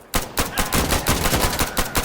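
An FAL rifle fires in a video game, a rapid burst of roughly a dozen loud, sharp shots in quick succession lasting about two seconds.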